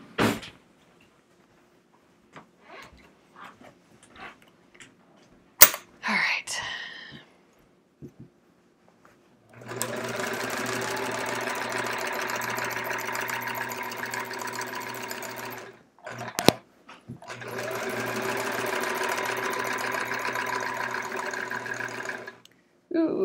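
A sewing machine with a walking foot stitches a quilt in two long, steady whirring runs separated by a short pause. Quiet handling clicks and bumps come first.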